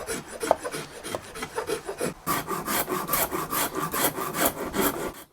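Guitar body wood being sanded with a hard sanding block during a custom guitar build, with rapid rhythmic rasping strokes up close that get louder and denser halfway through, with no voices.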